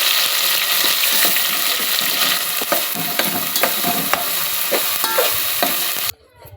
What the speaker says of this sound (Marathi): तर ते वाटण पहिल्यांदा भाजून घ्यायचं चांगलं तेल सुटेपर्यंत